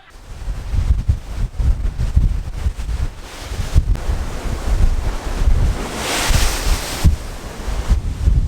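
Wind and waves roar on a Royal Caribbean cruise ship deck, with heavy gusts buffeting the microphone and surf surging in loud rolling bursts, no voices.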